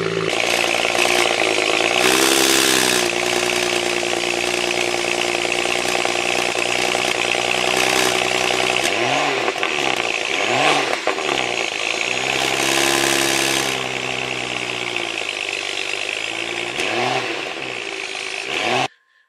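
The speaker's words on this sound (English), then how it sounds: "We're gonna start it up and see how she runs." A BMW 335i engine with intake leaks runs steadily and loud, holding a constant drone with a few brief revving swells before cutting off at the end.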